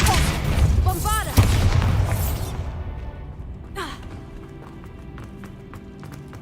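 Bombarda blasting spell in Hogwarts Legacy, a loud booming explosion near the start with rumbling debris and magical whooshes that fade into quieter ambience, plus a short later burst.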